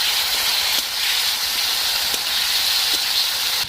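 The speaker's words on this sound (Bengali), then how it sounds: "মশলাটা ভালোভাবে কষে নেব এইভাবে" Spice masala with coriander powder, black pepper and chopped tomato fries in oil in a pan, making a loud, steady hiss with a few faint ticks from the utensil; no voices.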